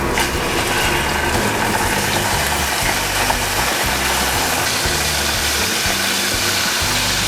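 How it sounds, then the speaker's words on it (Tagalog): Tuna frying in oil in a pan, a loud, dense, continuous sizzle and crackle close by with no talking. "ngayon, pwede na nating ilagay ang ating tuna"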